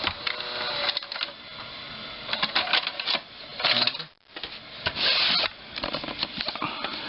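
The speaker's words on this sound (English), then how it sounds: "I guess hit eject to take the tape out" A GE VG 4056 VCR, its mechanism partly disassembled, whirs and clatters as it ejects a tape, with a steady mechanical grinding broken by clicks and a brief pause midway.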